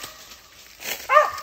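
A dog outdoors in Alabama woods lets out a single short bark or yip near the end, moderately close, after a brief stretch of quiet rustling.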